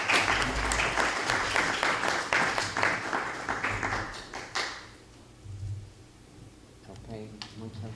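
Audience applause at an academic talk, a burst of clapping for about four and a half seconds that fades out, followed by quieter room sounds and a voice.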